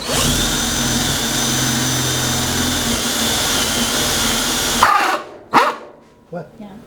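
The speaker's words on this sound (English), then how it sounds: "So we're going to start making the holes using our hole saw." A power drill turns a hole saw through a wooden board, giving a loud, continuous close whine that stops abruptly near the end, followed by a few sharp knocks and brief voices.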